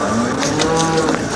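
At a cow market in Modnimb, Maharashtra, a cow in its third lactation gives one short, close, resonant moo lasting just over a second against faint market background noise.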